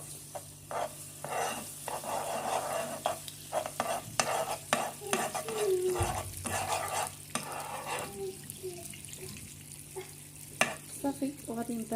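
Honey melts with a little butter in a pan, giving a soft sizzle under repeated stirring scrapes and clinks of a utensil against the pan, fairly quiet and close.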